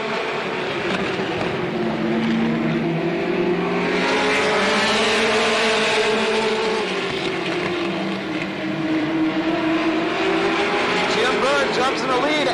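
Late model stock cars racing around Slinger Speedway in 1985, a loud, continuous roar of several engines swelling and fading as the pack moves down the straight, with a race announcer talking over it.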